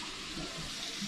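Liquid spills and splashes in a brief, steady rush during work on an 1988 Honda Civic hatchback, close by and fairly quiet, with no speech.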